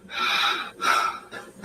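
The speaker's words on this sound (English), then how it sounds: "Breathing real hard." Heavy, hard breathing close to the microphone: three loud gasping breaths in quick succession, each a rough, airy rush.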